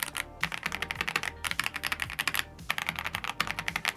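Fingers type quickly on an Aula tenkeyless mechanical keyboard fitted with yellow switches. The close, crisp key clacks come in a rapid, uneven patter that drops off in a few short pauses, and no one speaks.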